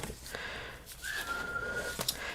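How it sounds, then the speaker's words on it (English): A faint, thin whistle from a pet bird rises and holds briefly amid quiet room noise and a few soft clicks. "I don't know if you guys can hear him whistling."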